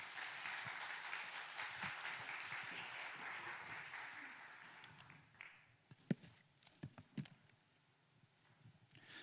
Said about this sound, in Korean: 우리 목사님 나오실 때 우리 박수로 다시 한번 환영하도록 하겠습니다